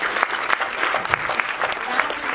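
A seated audience at a book event about Nasir Husain's cinema claps with full, dense applause that holds at a steady, fairly loud level, with faint crowd murmur underneath.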